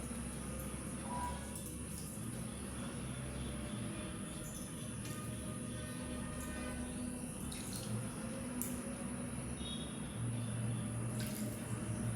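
Tap water runs steadily for bathing a pet parrot, a continuous close hiss with faint dripping detail and no talk over it.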